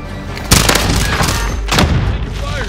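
Airstrike explosions in Call of Duty Warzone: two loud, booming blasts about a second apart, each trailing into rumble, with gunfire-like crackle and game noise between them.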